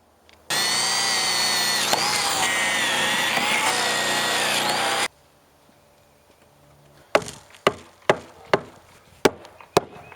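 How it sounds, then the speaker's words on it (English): A power drill bores into a pressure-treated 2x6 sill plate with a loud, sustained whining drone for several seconds, then stops, followed by a series of sharp wooden knocks and taps. "What you see me doing here is marking where to drill holes so I can slide these boards down on top of the"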